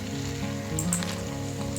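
Chopped potatoes dropped into onions frying golden brown in a pan at home, giving a steady close sizzle and crackle over a low kitchen hum, with no voice.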